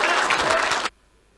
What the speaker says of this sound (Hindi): एक बार खड़े होकर तालियां बजाएं